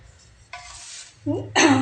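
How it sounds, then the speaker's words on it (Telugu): Mustard seeds, cumin and fenugreek stirred together in a pan for a mango pickle, giving a soft scraping swirl that grows louder toward the end, with a brief sizzle-like burst. "దీనిలోనైతే అన్నిటినీ నేనైతే ఇప్పుడు కలుపుతున్నా."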